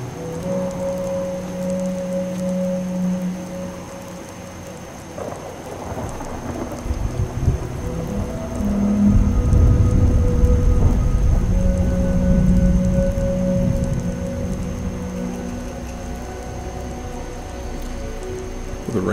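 Steady rain falling in the Fallout 4 video game, with deep rumbling thunder swelling loudly midway and then fading back under the constant downpour.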